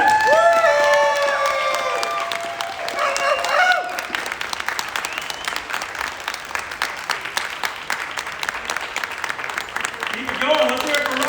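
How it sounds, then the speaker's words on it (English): Convention panel audience applauding, dense clapping with cheers and whoops, loudest at the start and then settling into steadier, slightly thinner clapping that swells again near the end. "Let's give him a big round of applause, everybody"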